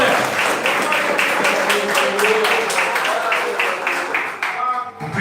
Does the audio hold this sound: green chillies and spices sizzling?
no